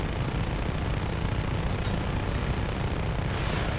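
A helicopter in the video game Just Cause 3 gives a constant loud rotor and engine roar, a dense unbroken wash of noise with a few faint brief ticks and no talk.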